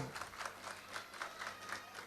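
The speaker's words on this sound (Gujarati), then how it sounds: "ભાઈ તાળીઓનો ગડગડાટથી વધાવો" Audience at an Ahir community honours ceremony in Virar, Mumbai, applauding a graduate: steady, dense clapping from a crowd, rolling in soft regular swells without a break.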